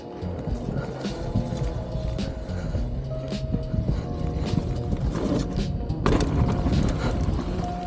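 A mountain bike rolls over wet dirt toward a gap jump, with continuous tyre rumble and rattling bumps, ending in a louder jolt near the end.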